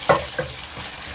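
Garlic frying in cooking oil while steamed red snapper is prepared, a brief close sizzle with a couple of quick stirring scrapes at the start, then a steady hiss.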